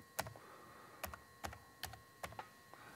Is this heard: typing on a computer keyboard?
yes